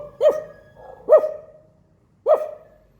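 Three loud, sharp barks from a dog nearby, spaced about a second apart with a longer pause before the last, each echoing briefly in otherwise quiet surroundings.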